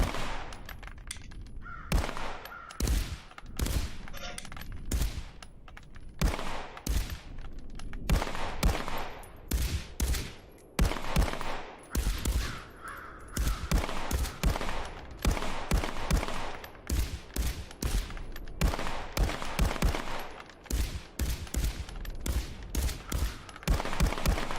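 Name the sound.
gunfire from two guns compared in video game Contractors VR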